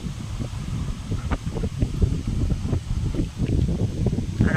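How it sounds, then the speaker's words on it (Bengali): Wind gusting on a drizzly, overcast morning, buffeting the microphone with a steady low rumble and restless blustery swells throughout, with no voices. "কি হাওয়া চলছে দেখুন"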